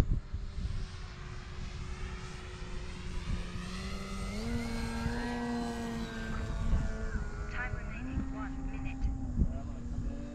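Electric E-flite Timber X RC airplane at full throttle, a steady buzzing motor-and-propeller drone with pitch shifts as it passes, heard under people talking close by.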